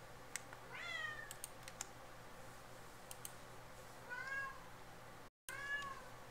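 A cat meows several times nearby, with short rising and falling calls at the start and again near the end, over light keyboard clicking and a faint steady hum.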